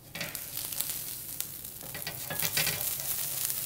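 A stick of butter melts on a hot griddle while French toast is prepared, sizzling and crackling softly and continuously, fairly quiet and close, with no voices.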